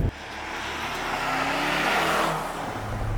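A Mercedes-AMG C 63 S E-Performance four-cylinder engine revs steadily with a rising, droning exhaust note that builds and then eases, loud and close, with no voices.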